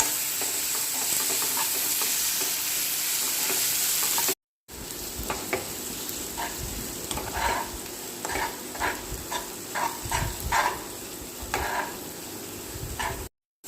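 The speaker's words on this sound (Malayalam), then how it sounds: "ഇതിലേക്ക് ഇഞ്ചി, വെളുത്തുള്ളി, പച്ചമുളക് അരച്ച് വെച്ച പേസ്റ്റ് ഇട്ട് നന്നായി മൂപ്പിക്കുക" Ginger, garlic and green chilli paste fries in a pan for beef curry, giving a loud, steady sizzle. After a brief silence, the sizzle resumes with repeated close scraping and stirring strokes.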